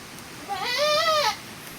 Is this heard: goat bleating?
yes